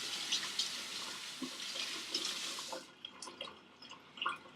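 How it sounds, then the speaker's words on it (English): Tap water runs steadily into a kitchen sink while hands are washed under it, a continuous splashing hiss that cuts off partway through, leaving a few faint drips and clatters. "Okay, so I'm just going to wash my hands here."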